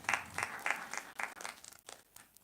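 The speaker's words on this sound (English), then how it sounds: "A round of applause one more time for him." A conference audience at a summit claps in scattered bursts, the applause near and moderately loud at first and then thinning into a few isolated claps.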